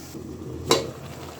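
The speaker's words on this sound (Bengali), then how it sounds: "শাকটাকে একটু কষিয়ে নিই ঢাকা দিয়ে দিলাম" White leafy greens sauté in a covered pan, with a low steady sizzle, a light stir and a single sharp clink of the lid or utensil near the middle.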